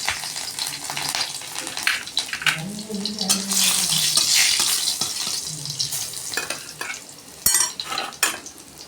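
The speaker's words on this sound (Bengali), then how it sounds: "এবার এইখানে রসুন আর কাঁচা লঙ্কা একটু থেতো করা আছে, এটা আমি তেলের মধ্যে দিয়ে দেবো" Crushed garlic and green chilli hit hot oil in a wok, giving a steady crackling sizzle with scattered clinks of utensils and a brief low hum partway through.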